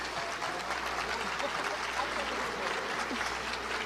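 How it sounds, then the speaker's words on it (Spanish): An audience at the Bogotá International Book Fair (FILBO 2024) applauds to welcome speakers, a dense, even wash of clapping heard from within a hall, with some crowd murmur mixed in. "recibamos con un aplauso a María Jimena Duzán, periodista colombiana,"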